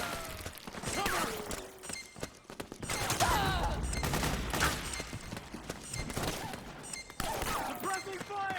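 Suppressing gunfire in the video game Metal Gear Solid 4: Guns of the Patriots, dense overlapping bursts and shots with thuds and debris, shouting voices mixed in over the continuous firefight.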